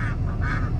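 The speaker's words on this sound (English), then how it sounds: "They're ducks." Several ducks quack in short, close calls over a steady low background rumble, with no talking.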